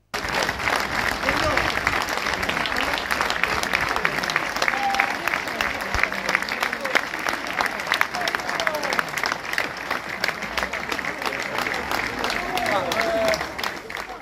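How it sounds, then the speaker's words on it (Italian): A crowd outside a church in Statte applauds as a coffin draped in red-and-blue football scarves and shirts is carried out at a funeral. The clapping is loud, dense and unbroken for the whole stretch, with faint voices beneath. "uno scrosciante applauso ha salutato l'uscita dalla chiesa del feretro avvolto da sciarpe e maglie rossoblù"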